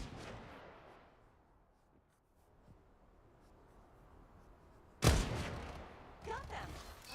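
Gunfire in the shooter game Strinova comes as a sudden loud burst of shots after a quiet stretch, followed by further rattling fire with game voice lines over it.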